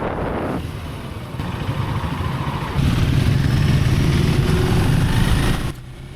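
A 2025 KTM 390 Enduro R motorcycle rides with a steady engine drone and wind rush, rising in loudness partway through before easing back near the end, with no talking.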